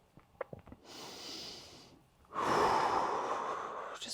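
Slow, audible breaths during a neck, shoulder and upper back stretching workout: a soft inhale, a pause, then a longer, louder exhale, close and alone with no talking.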